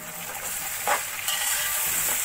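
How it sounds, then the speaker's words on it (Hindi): Chopped tomatoes fry with ginger paste in a pan, giving a close, steady sizzle with a couple of soft stirring scrapes over it. "थोड़ी देर टमाटरों को भून लेंगे।"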